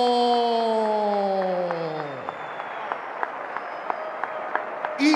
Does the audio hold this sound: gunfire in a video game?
no